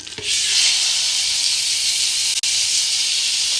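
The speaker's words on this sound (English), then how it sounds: "I'm going to pour that into the frying pan" A loud, steady sizzle bursts up as chicken is poured into a hot frying pan and keeps hissing evenly, with one brief break near the end.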